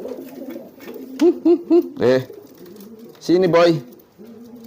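A homing pigeon being trained to stop fearing the hand gives several close, rolling coos in short bursts, while a person speaks briefly to it.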